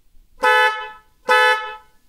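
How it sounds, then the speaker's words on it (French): Two short, bright honks from a car-type horn fitted on a Mash Black Side motorcycle, each a rich harmonious blare about a quarter second long, loud and close with brief silence between. "j'ai un klaxon de type automobile qui est beaucoup plus harmonieux"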